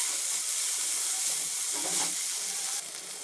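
Chopped tomatoes hiss and sizzle steadily in a pan over fried onions for Bangladeshi chola bhuna, a close and continuous frying sound with no talking.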